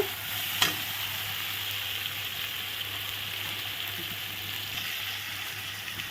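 Spices, including chilli powder, fry in a pan under a soft, steady sizzle with a brief stirring clink near the start, otherwise an even quiet crackle.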